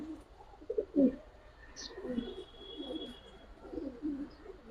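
Giribaz and colouring pigeons coo in low, throaty rolls that repeat at a steady pace, faint and close, over quiet background noise with a brief thin whistle in the middle.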